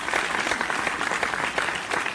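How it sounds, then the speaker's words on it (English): An audience claps for Duntae's dance at a comedy show, a brief burst of dense, lively applause filling the whole moment. "Round of applause for Duntae and that dance"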